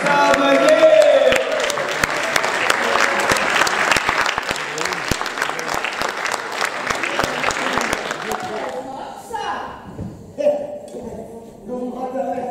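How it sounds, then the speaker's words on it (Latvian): An audience bursts into dense, loud applause that holds steady for about eight seconds, then thins out and fades, with a voice and scattered claps following. "Vēlreiz aplausīt Ažvangas Stāvagī!"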